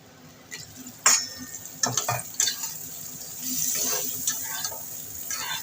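Fish pieces frying in hot oil, apparently boal catfish cooked with salt and turmeric, a steady sizzle with a few sharp spatters and clatters of a utensil, close and moderately loud.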